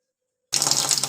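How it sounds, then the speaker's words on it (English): Water gushes steadily into a washing machine drum, starting abruptly after half a second of silence and continuing as a loud, even rush like a running tap. "fill the washing machine with water until it's enough"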